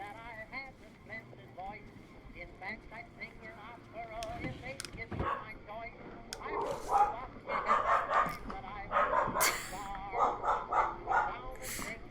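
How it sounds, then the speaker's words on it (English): Dogs bark repeatedly in the video game We Happy Few, the barks growing louder and busier over time, with talking heard alongside them. "I'm gonna let them finish their barking fit"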